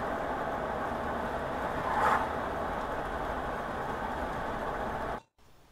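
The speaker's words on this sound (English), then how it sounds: "I'll lower one of the windows now just to see what it's like with a bit of wind noise" Broad, steady wind rush and road noise inside a car with a window lowered, picked up by a Kaiser Baas R20 dash cam, moderately loud and continuous with a brief swell before cutting off near the end.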